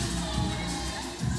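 A crowd cheers for a climber at a lead climbing competition final, with children among them. The brief, steady murmur of cheering stays fairly constant and lifts slightly at the end.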